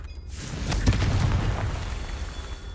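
A Confringo explosive spell bursting in Hogwarts Legacy, a deep booming blast near the start that rumbles and decays over a couple of seconds amid game effects.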